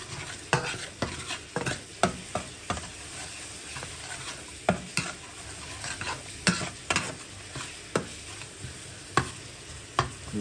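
Sindhi biryani ingredients cooking over moderate heat in a pot, stirred with a spoon that scrapes and knocks against the pot in a dozen or so irregular strokes over a low sizzle, close by.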